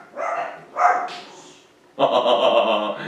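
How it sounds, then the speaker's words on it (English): Two short bursts of puppy barking and yipping, then a longer, louder run of overlapping barks, close by with no talking. "You hear my puppies?"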